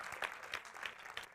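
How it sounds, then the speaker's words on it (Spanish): Audience applause after a talk, a quiet, steady patter of clapping from a modest crowd with slight swells, heard from some distance. "Un fuerte aplauso para ella"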